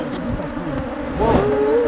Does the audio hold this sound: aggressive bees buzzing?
yes